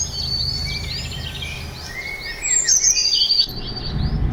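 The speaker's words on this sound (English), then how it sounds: "it's like we're passing through a bird sanctuary or something" Birds chirp and twitter in a truck-driving video game, with several quick tweets and trills in the foreground over a steady low engine-like rumble and faint insect buzz.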